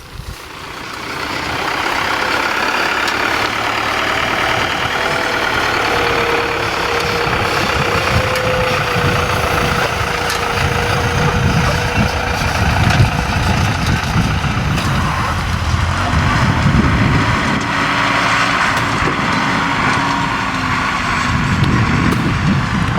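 Southern States spray rig sprayer engine runs steadily and loudly nearby, a continuous droning rumble with shifting tones throughout.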